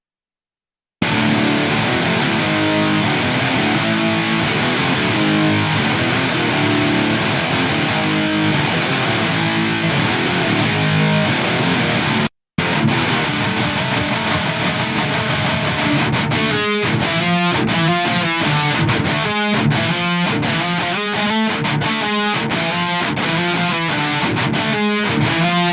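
Guitar played through an AuroraDSP Laboga Chainsaw distortion, a thick, loud saturated tone with sustained chords, a brief cut in the middle, then chugging rhythmic palm-muted riffs.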